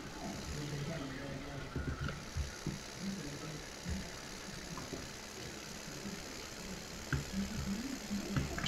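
An old Renault tractor engine idles with a low, rumbling throb in Farming Simulator 17, steady and moderately close, with someone talking over it.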